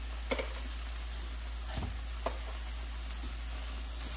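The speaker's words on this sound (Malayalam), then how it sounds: "മുളക് പൊടി കൂടെ ഇട്ടു കൊടുക്കും" A pan of green chilli, ginger and tomato for tomato sevai sizzles steadily as chilli powder is added, a close continuous fry over a low hum with a few light stirring clicks and no talking.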